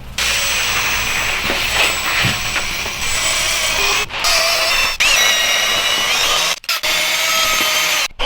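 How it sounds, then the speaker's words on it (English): A power drill fitted with a polishing cone buffs an engine mount, producing loud, close, continuous high-pitched whirring and grinding, cut by a few short pauses where the tool stops and restarts. "I just finished up polishing the mount with the polishing cone"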